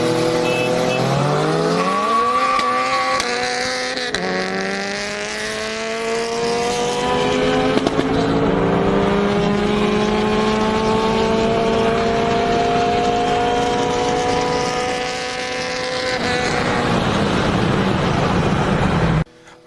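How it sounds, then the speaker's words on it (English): Boosted Honda Civic and cammed C6Z Corvette street racing in Mexico, engines roaring loud and continuous as they rev up through the gears, with pitch climbing and shifting across the run, near and sustained throughout. "We have a boosted Honda Civic versus a cammed C6Z Corvette."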